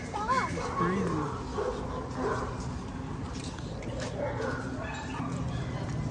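Dogs at an animal shelter barking, yipping and whimpering, several sharp calls scattered across the stretch at moderate distance, mixed with people talking nearby.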